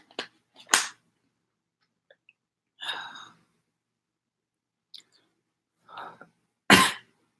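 Several separate coughs and throat sounds, spaced out with quiet gaps between them, the last one loudest and close by.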